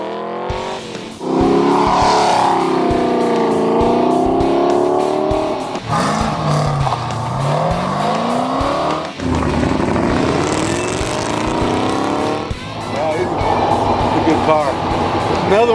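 A race car roars past on an open road race through West Texas, a loud engine note rising and falling as several cars pass by close, with people talking over the noise.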